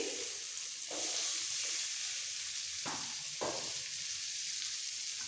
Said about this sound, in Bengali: এইবার এই ডিম ভাজার তেলের মধ্যে দিয়ে দেবো একটা বড় সাইজের পেঁয়াজ